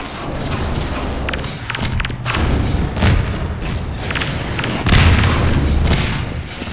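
Rocket explosions and gunfire in the Half-Life 2 Deathmatch game, a dense stretch of loud booming thuds and sharp pops in steady succession with no clear talk.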